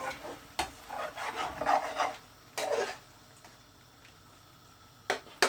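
A utensil scrapes across the bottom of a pan of garlic chilli chicken curry in several rasping, rubbing bursts, close and fairly quiet, with short pauses between strokes and no talk.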